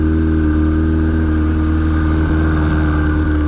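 A Yamaha RX1 snowmobile engine idles steadily after a cold start following months parked, a loud, close, continuous four-stroke drone with a deep even hum and slight pitch wavering near the end.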